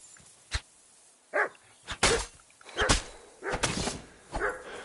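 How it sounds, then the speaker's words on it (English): Wild dog in Kingdom Come Deliverance 2, a series of sharp barks and yelps coming in uneven bursts, fairly close and alone against a quiet background. "That's a wild dog."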